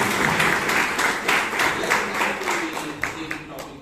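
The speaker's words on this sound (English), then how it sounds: "So please give him a big round of applause." Audience at a Toastmasters club meeting in Bangalore gives a round of applause, a steady, fairly loud wash of clapping from a small crowd that continues throughout and slowly fades slightly.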